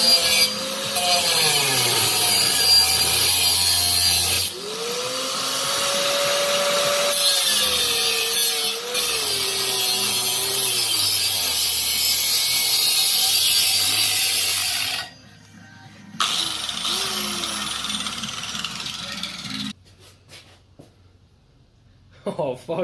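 A metal minibike exhaust pipe is ground and cut in a loud, continuous harsh whine with rising and falling pitch as the tool bogs and frees up, stopping briefly twice before trailing into quieter scraping.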